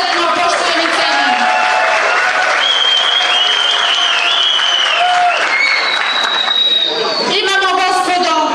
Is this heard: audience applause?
yes